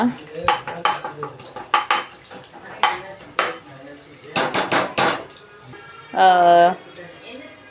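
Chicken sukka sautés in a pan at home, with sharp metallic clanks and scrapes of a spatula against the pan in quick irregular bursts over low frying noise. A short tonal voice-like sound appears near the end.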